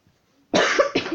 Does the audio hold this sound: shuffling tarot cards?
no